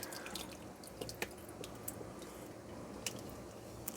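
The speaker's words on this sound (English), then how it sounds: "just keep pouring it in and letting it strain through until you get it good and strained" Elderberry juice poured through a strainer, a soft, steady wet trickle with scattered dripping and small squishy splashes, close and fairly quiet, with no talking.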